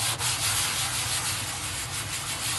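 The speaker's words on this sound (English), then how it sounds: "Right, using some 180 grit sandpaper," Steady close-up sanding of hardened glue on a black laminate worktop with 180 grit sandpaper, a continuous dry scratchy rasp with slight rhythmic strokes, loud and alone.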